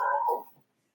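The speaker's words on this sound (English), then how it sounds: "That's my dog." A pet dog, loud and social, gives a short close bark or yelp that cuts off quickly into silence.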